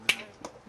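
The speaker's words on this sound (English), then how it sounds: "Snap your fingers." A single sharp finger snap, close and crisp, followed by a fainter second click in an otherwise quiet room.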